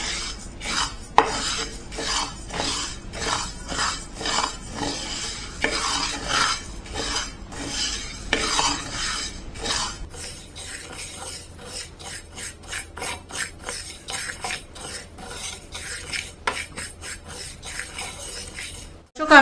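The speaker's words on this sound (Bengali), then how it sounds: "আমি এখানে মুগ ডালটা 5 মিনিট অনবরত নেড়ে চেড়ে ভেজে নিলাম।" Mung dal dry-roasting in a pan while a utensil stirs it constantly, producing steady rhythmic scraping and rasping strokes against the pan, close and continuous, with a brief clatter at the very end.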